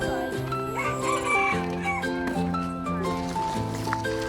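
Several roosters and hens at Berlin Zoo crow and cluck continuously and loudly nearby, with overlapping calls from a mixed flock of fowl.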